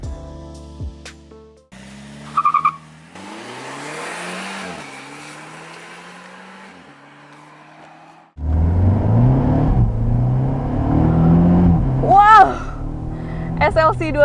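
Mercedes-Benz SLC 200 roadster, the facelifted SLK, driven at Sepang Circuit in Malaysia; engine note rises through several gear changes, mostly steady and moderately loud, then a fuller surge of acceleration later on, with a presenter talking over parts of it.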